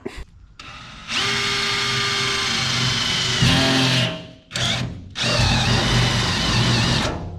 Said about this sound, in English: We're gonna lift this thing out of there, drill the holes, put her back in